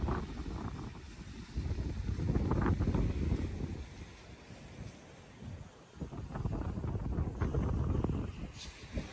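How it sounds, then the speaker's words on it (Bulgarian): Strong wind on an empty beach buffeting the microphone in heavy gusts, rumbling loudly, dropping briefly, then surging again. "Това е много ветровито."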